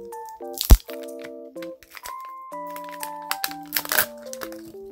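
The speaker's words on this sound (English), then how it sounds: "I'm gonna do an unboxing." A Mini Brands surprise toy ball is opened with a loud crunch and crinkling plastic, followed by light rustling and handling noises while musical tones play in the background.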